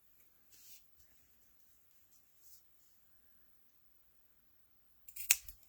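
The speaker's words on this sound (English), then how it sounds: "I've got different scissors that I know will cut that and not let it fray." Soft, faint snips and rustles in a quiet room, ending in one sharper, louder scissor cut near the end.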